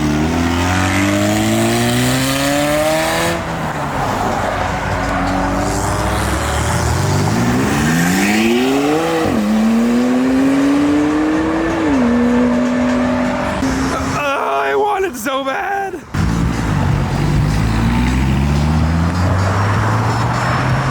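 A Pontiac GTO muscle car engine accelerates hard through several gears, loud rising whines climbing repeatedly with shift breaks, a brief dropout near the end, then full power again.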